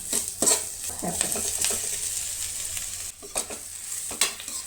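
Onions and tomatoes frying together in a pan, with a steady sizzle broken by scraping stir strokes and light clinks of a utensil against the pan, all close by.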